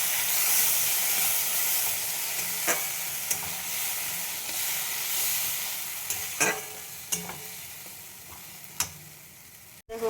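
A spice paste sizzles in hot oil with fried onion and potato, a constant close frying hiss broken by occasional spatters and the scrape of stirring, no talking.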